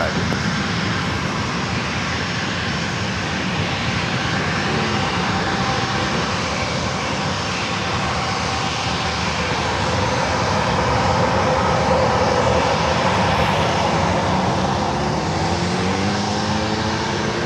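A Learjet business jet taking off from runway 27 at San Diego airport, a loud, continuous engine roar that holds steady throughout and swells slightly toward the end.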